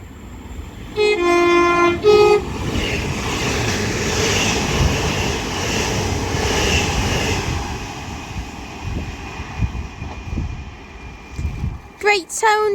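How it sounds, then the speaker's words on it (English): A Northern Class 170 diesel train from Manchester Airport passes through Kearsley, giving a loud two-tone horn blast near the start, then a long steady rumble of the train running by, with someone talking over it. "passing through over here is a Northern 70 from Manchester"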